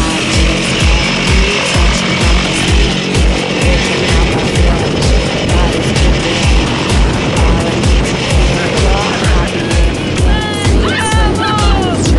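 Roaring propeller-aircraft engine and rushing wind at the open door just before a tandem skydive jump, loud and steady throughout, with voices partly buried beneath it.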